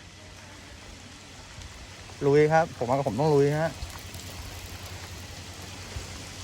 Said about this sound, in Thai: มาถึงแล้วฝนตกนะฮะ ฝนตกแล้ว